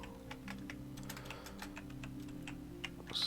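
Quick bursts of keystrokes on a computer keyboard, a quiet run of light clicks and taps over a low steady background hum, close and faint, with no one speaking.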